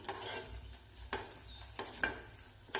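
Semolina and wheat flour dough, cooked with water and milk, is stirred in a hot pan, giving repeated quiet scraping strokes over a faint sizzle, with no voices.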